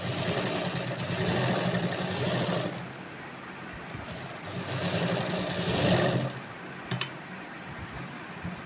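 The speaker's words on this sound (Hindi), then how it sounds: "वापस ऊपर की सिलाई लगानी।" A sewing machine stitches a Rajasthani kanchli, its steady motorised whir running in two bursts broken by short pauses and a few sharp clicks, close and loud with no talk.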